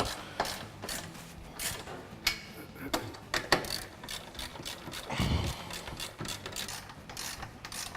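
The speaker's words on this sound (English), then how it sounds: "then you guys can start tightening down the bolts" A ratchet tightens bolts on aftermarket Nerf bars in a shop garage, giving bursts of quick metallic clicking with irregular pauses and a few louder knocks, close and fairly quiet, with no talking.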